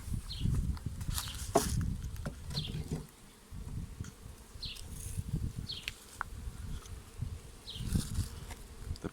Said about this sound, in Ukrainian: не самий маленький рій